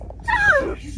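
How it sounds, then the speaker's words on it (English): A dog gives one short, high, whiny bark or yelp, close by and brief, followed by quiet. "She just barked at me."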